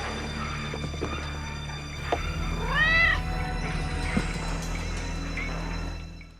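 A cat meows loudly in a drawn-out, rising and falling call over a steady background hum, a single clear yowl mid-way with faint movement around it.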